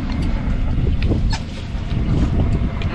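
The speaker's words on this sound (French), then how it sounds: "le vent s'est un peu levé" Wind blows across a sailboat at sea in the small hours as the breeze picks up, a steady loud rushing buffeting the microphone, with faint creaks and knocks from the boat beneath it.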